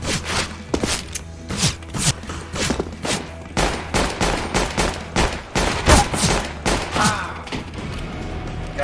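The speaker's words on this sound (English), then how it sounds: "The bots are using guns." Bots fire guns in a video game, producing dense rapid volleys of loud gunshots in continuous bursts with occasional thuds and footsteps, no voices.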